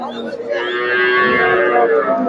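A cow moos loudly and close by at Chandaikona cattle market in Bangladesh, one long drawn-out low call lasting about two seconds.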